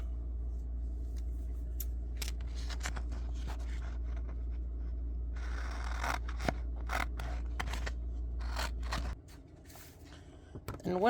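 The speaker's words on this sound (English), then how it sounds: "So now I just need to cut down this paper because it's a little large" Scissors snip through paper being trimmed for doll fairy wings, a run of crisp, close cuts at an uneven pace over a low steady hum that stops near the end.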